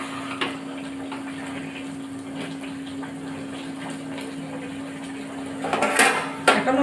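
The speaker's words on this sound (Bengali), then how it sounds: "এই যে তরকারিটা নুন হলুদ দিয়ে ঢাকা দেওয়ার পর আমার খুব সুন্দরভাবে ফুটতে লেগেছে" A covered pot of pumpkin curry with salt and turmeric simmers at a steady boil, a constant low hum under soft bubbling that swells into louder gurgling bursts near the end.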